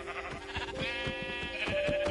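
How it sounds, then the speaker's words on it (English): Sheep bleat in several wavering, nasal calls that overlap one another, loud and close, with no talking. "Oh, sheep."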